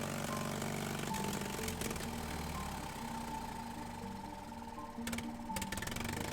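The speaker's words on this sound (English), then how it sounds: "Playing with the choke will keep the pony motor running." The small gasoline pony motor on a 1956 Cat D6 9U bulldozer runs with a rapid, continuous mechanical chatter. The motor struggles to stay running, and the running note shifts slightly with brief rattling bursts.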